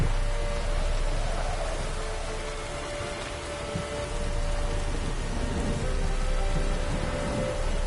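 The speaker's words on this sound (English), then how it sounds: "The storm, damn it." Steady heavy rain from a storm in The Witcher 3: Wild Hunt, a continuous loud wash of rainfall hissing on surfaces with a faint low rumble of thunder underneath, no voices.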